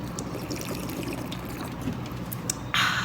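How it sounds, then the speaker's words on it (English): Cold drinking water from a bottle filler pours steadily at a national historic site, a continuous close splashing flow with a brighter surge near the end. "they do have the bottle filler also"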